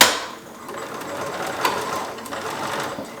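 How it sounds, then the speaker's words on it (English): A sewing machine runs steadily close by, top-stitching quilting lines through fabric potholder pieces with a continuous mechanical whir and faint needle clatter. "I'm gonna just sit here and do some little top stitched quilting on all of these big pieces"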